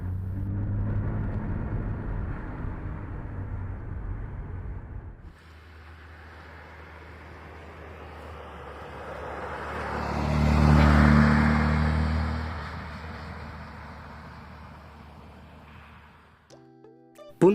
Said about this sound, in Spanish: la respuesta del motor, brioso pero a la vez perezoso en bajas